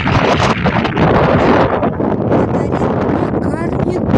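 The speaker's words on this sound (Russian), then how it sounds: "Сегодня очень сильный ветер" Strong wind buffets the microphone outdoors, a loud, rough, gusting roar under a person talking throughout.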